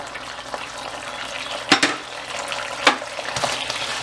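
Chicken 65 frying in a pan as hot sauce, chilli garlic sauce, ketchup, crushed chillies and salt go in, a steady sizzle with a few sharp clatters and splashes partway through.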